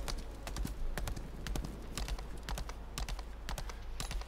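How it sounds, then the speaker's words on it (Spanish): Horse hooves clip-clop at a steady trotting rhythm in the video game Lost Ark, crisp repeated strikes over a constant low background hum. "Vamos a coger el caballito otra vez"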